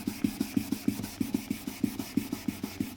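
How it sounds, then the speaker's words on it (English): A lubricated polishing pad sands plastic with quick back-and-forth strokes, producing a steady rhythmic rubbing of about five strokes per second, close and quiet, with no talking. "So this is sanding some of the plastic off."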